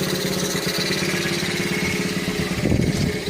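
A 1972 Honda Dax ST70 monkey bike engine runs without an air filter, its throttle cable out of adjustment, ticking over in a steady, close putter with a brief rougher surge near the end.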